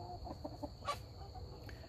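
Soft, scattered clucking of chickens over a low steady background rumble, with a brief brighter squawk partway through.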